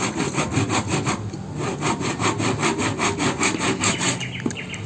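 A saw cuts through a hard coconut shell in steady back-and-forth strokes, about two per second. The rasping is close and loud, with no talk.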